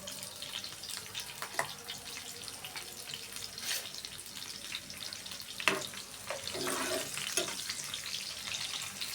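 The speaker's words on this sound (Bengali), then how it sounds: "পেঁয়াজটা এমনভাবে ভাজবো ব্রাউন কালার আসার দরকার নেই নরমভাবে ভাজবো" About one and a half chopped onions fry gently in a pan for a chicken and coconut-milk curry, giving a soft, faint sizzle with occasional clinks and scrapes of stirring.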